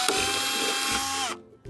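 A power drill fitted with one small drill bit whirs at a steady high pitch at an allotment garden, then winds down and stops abruptly.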